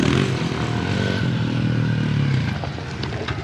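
A modified Honda CRF110 dirt bike revs hard close by with a raspy, buzzing engine note, and the pitch sweeps up and settles over a few seconds, with no talking.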